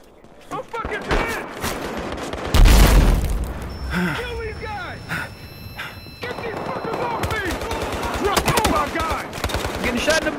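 Battlefield Hardline multiplayer conquest gunfire: rapid automatic bursts and heavy booms, one loud blast at about two and a half seconds, continuous close shooting while players shout over it.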